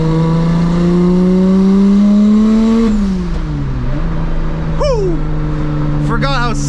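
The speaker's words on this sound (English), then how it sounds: "Forgot how sick this car sounds, man." A 700whp single turbo BMW 335i accelerating, engine note rising steadily then dropping through a shift, with short sharp chirps near the end and a person talking over the loud close drone.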